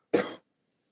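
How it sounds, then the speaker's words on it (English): One short, sharp cough, close and isolated, followed by silence. "I really need to like cough."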